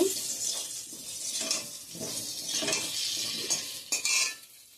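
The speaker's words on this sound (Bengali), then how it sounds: "মাংসের জন্য আলুটা ভেজে নিচ্ছি" Potatoes fried in a pan for chicken curry, soft sizzling under repeated scraping and stirring of a metal utensil against the pan, with occasional clinks.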